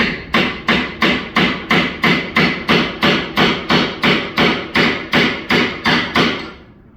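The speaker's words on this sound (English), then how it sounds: "That's with the curved chisel?" Mallet striking a curved chisel while carving a wooden dragon head, about sixteen loud, evenly spaced knocks in a steady rhythm, close up and alone, then quiet.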